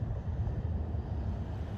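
Gusting wind roars across the microphone of a GepRC TinyGO FPV drone in flight, a loud, continuous low rushing that swells and dips without pause and has no voices over it.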